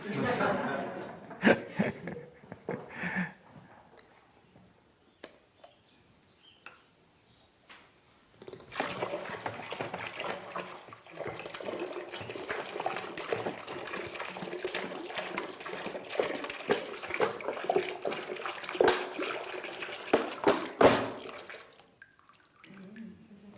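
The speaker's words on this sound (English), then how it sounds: "Notice the stream of water came out." Water streams out of a plastic 7-Up soda bottle with its label removed during an air-pressure science lesson at a Steiner Waldorf school. A quieter start with scattered noises gives way to a steady, continuous gushing that lasts about twelve seconds, then stops.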